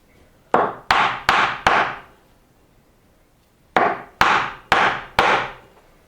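A copper ferrule is tapped onto the wooden handle of a woodturning gouge with sharp, ringing hammer blows: a group of four evenly spaced strikes, a pause, then four more, loud and close.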